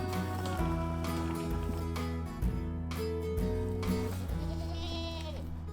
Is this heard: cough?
no